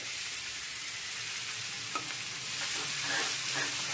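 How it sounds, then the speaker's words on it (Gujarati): Cumin, curry leaves, ginger-chili paste and turmeric tempering in hot oil produce a quiet, continuous sizzle, with small crackles and pops rising toward the end. "એનો વઘાર કરી લેવાનો."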